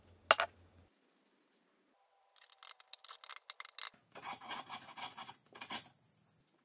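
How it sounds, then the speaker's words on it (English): Overspray inside a Hafco BD 325 drill press collar is lightly sanded, producing a faint tap and then short scratchy rubbing strokes that settle into a steadier, quiet abrasive rasp. "Bit of overspray inside this collar, so I just gave it a light sand and some WD-40."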